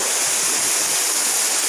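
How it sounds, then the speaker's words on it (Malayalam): A powerful waterfall at Marayoor in the Western Ghats roars as a dense, continuous rush of water, loud and close, with no voices. "അതിഭയങ്കരമായ വെള്ളം താഴേക്ക് വരുന്നത്."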